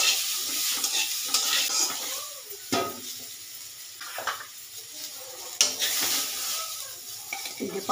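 Masala paste with chopped tomato sizzling in a pan while a spatula stirs and scrapes it, with several sharper metallic scrapes against the pan, close and steady throughout.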